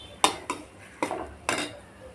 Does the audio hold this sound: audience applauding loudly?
no